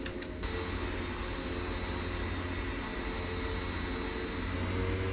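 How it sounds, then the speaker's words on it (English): Single running aircraft engine in the X-Plane 11 flight simulator, a steady, loud broadband drone with a low rumble that holds evenly throughout, heard alone without talk. "But I apparently just get the one engine today."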